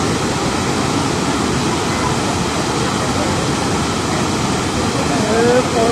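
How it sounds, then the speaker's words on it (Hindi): Floodwater after heavy rain in Sawai Madhopur, Rajasthan, roars in a dense, steady rush, loud and close, continuing without a break for several seconds. "कितना पानी आ रहा है देख लो भाई तबाही चारों तरफ"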